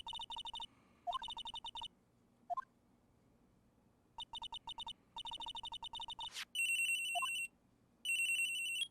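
A mobile phone rings in the Phoenix Wright: Ace Attorney game, with repeated bursts of bright electronic trilling broken by short gaps and a few rising blips, loud and clear with no voices.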